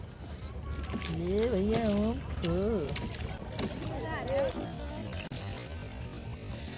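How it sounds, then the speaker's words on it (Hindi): Boating on Naini Lake in Nainital, with gentle water sloshing and boat creaks under wind, while nearby voices talk and call out over the water. "हम लोग बोटिंग कर रहे हैं"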